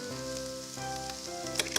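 Herbs frying in a pan for a vegan shepherd's pie, a soft continuous sizzle with crackling pops near the end, close and fairly quiet.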